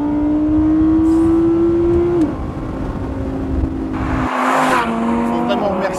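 An Audi R8's 5.2-litre naturally aspirated V10 holds a high steady note, then drops away as tires squeal briefly; a faint voice sits under the engine, which later rises again with a burst of broadband noise.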